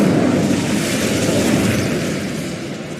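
A blazing Incendio fire spell cast in the Hogwarts Legacy video game: a loud, dense whooshing burst of flame that roars steadily for several seconds and then tapers slightly, with no voices.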